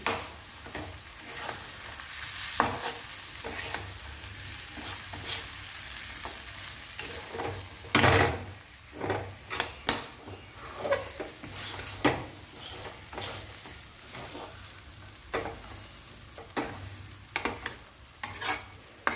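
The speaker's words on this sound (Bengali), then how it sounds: "কাজু বাদামটা বাটাটা দেওয়ার পর একটু লেগে যায়, ঘন তো, একটু কমিয়ে সিমে করে করছি।" A thick jackfruit kofta curry with cashew paste simmers on low heat, sizzling softly while a spoon stirs and scrapes the pot in irregular bursts, with occasional sharper knocks against the side.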